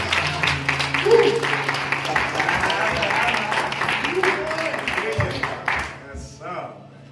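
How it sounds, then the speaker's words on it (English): A church congregation breaks into applause in praise, a dense patter of many hands clapping that carries on for several seconds before fading, with talk mixed in. "Give God a hand clap of praise."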